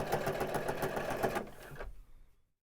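A sewing machine stitches a throw pillow in a rapid, close mechanical chatter for about a second and a half, then slows and stops into silence.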